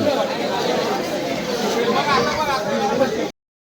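A large crowd chatters continuously at the Chintamani Ganpati arrival procession in Mumbai, a dense, steady wash of many overlapping voices at close range with no pauses.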